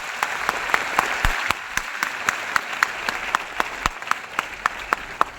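An audience applauds for the leaders at a DXN gathering, a steady round of clapping in a hall with sharp, regular claps standing out above the crowd's general applause.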